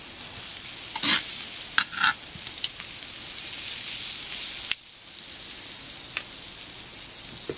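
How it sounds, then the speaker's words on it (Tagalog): Butter sizzles loudly on a hot sizzling plate, a dense continuous frying hiss with a few stirring scrapes, close up and with no talking. "Meron po tayo ditong sizzling plate. Lagyan natin ng butter."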